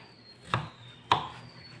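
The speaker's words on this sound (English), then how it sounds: "we were going to start now to slice the tomato" Knife cutting through a tomato on a board during a home economics cooking demo, two crisp chopping taps about half a second apart, close and clear against a quiet room.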